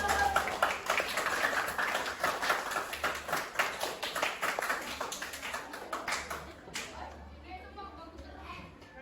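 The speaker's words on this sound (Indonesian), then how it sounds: "tepuk tangan dulu untuk teman-teman" Applause and clapping from a group of students in a classroom, steady and moderately loud for several seconds, fading toward the end.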